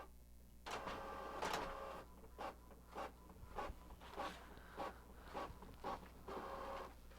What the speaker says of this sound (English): I was waiting for my printer to give me the second one.